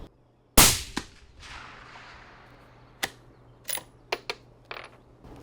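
A single sharp rifle shot cracks loud and close after the bolt is closed, then a long echo rolls away, followed by several smaller metallic clicks and knocks.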